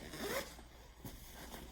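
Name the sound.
back zipper pocket of a bag being zipped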